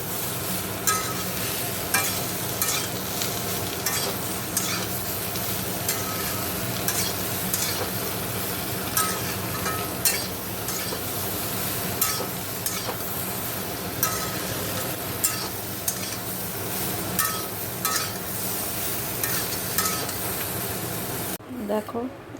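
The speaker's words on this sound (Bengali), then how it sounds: "ভালো করে ভাজা ভাজা করে নেবো।" Onions frying with salt and turmeric in a pan, a steady close sizzle with repeated scraping stir strokes throughout, ending abruptly near the close.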